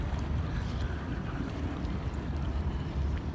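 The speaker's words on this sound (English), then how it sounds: "A little windy today, guys." Wind blows outdoors at a park, a steady, full rumbling buffet against the microphone with no breaks, close and dense.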